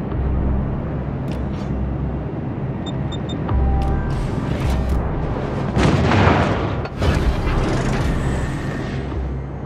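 Artillery fire on a target, rumbling booms and a sharper loud blast midway over a constant low engine-like drone, with a few faint high electronic beeps early on.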